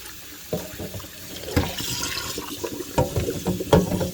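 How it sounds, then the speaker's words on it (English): Produce being rinsed under running tap water inside a netted cloth, a steady close splashing stream with a few louder bursts as the items shift under the flow. "I have it all in my netted cloth right now, just like this. And this way I can get it all rinsed off."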